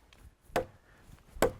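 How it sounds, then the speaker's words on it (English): A butcher knife chopping through a log of good hard wood, with two sharp, loud impacts about a second apart, separated by quiet. "Would you imagine taking your butcher knife out and chopping a log in two? And that is good hard wood."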